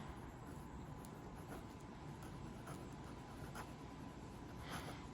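A Pilot Kakuno fountain pen with a solid steel nib scratches steadily across paper in reverse writing, a faint close scraping with soft periodic strokes and no voices.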